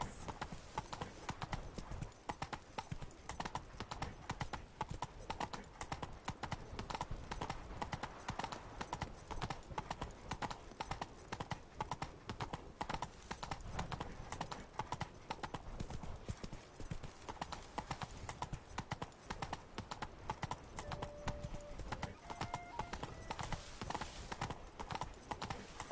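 The horse Roach galloping in the video game The Witcher 3, with a steady rapid clip-clop of hooves continuing throughout over a faint background.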